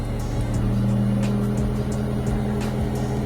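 A Mitsubishi Lancer engine idles steadily up close with a constant low hum while the steering wheel is turned and the power steering loads it, plus a few faint clicks and ticks.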